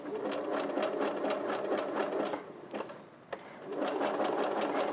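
A sewing machine stitches string together into a honeybun bowl, running in fast steady rhythmic bursts, pausing briefly with a couple of clicks, then resuming at full pace.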